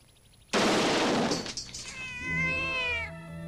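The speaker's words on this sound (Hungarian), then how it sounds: "Látod a cicát?" A cat meows loudly and close, one drawn-out, wailing yowl that slides in pitch, starting abruptly after a brief quiet and fading into a low hum.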